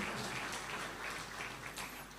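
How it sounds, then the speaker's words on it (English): A crowd at a ceremony marking sixty years of UNATCOM in Uganda claps for the Secretary General, a dense, continuous patter of applause at moderate distance that holds steady throughout. "Another round of applause for the Secretary General."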